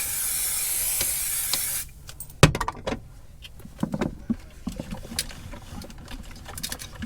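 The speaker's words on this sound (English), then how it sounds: "Oh, I was going to use starch spray" A can of starch spray hisses in one continuous, fairly close burst lasting nearly two seconds, followed by quiet handling clicks and rustles.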